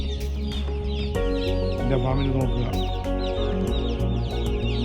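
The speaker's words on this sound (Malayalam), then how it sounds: "ഡ്രിങ്കറിൽ നിന്ന് വെള്ളം കുടിക്കുന്ന കോഴികൾ" Young chickens on a poultry farm drinking at the water drinkers, with steady close clucking and chirping from many birds over the whole stretch, someone speaking briefly at the start.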